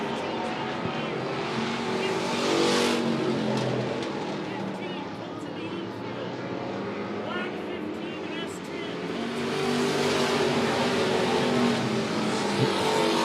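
Dirt track race cars roar around Monett Motor Speedway, engines rising and falling as they pass, with a race commentator talking over the loud, continuous racing noise.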